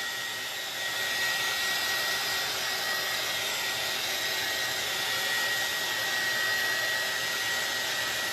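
A hair dryer blowing on a chalk paste craft project, a steady close whooshing roar with a faint whine, running continuously and unbroken by speech.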